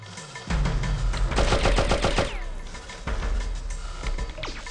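A slig fires in Oddworld: Abe's Exoddus, a loud, close burst of rapid machine-gun shots followed by a single heavier report, with no talk.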